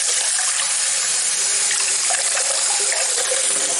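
Hot water runs steadily from a tap during a natural-hair rinse, a dense, even wash-and-splash hiss held at constant level throughout, with no voice.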